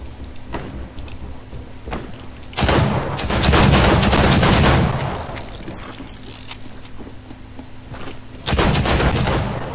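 Loud bursts of gunfire from a Fortnite match, a long volley near the middle and another sharp burst at the end, separated by quieter in-game background noise.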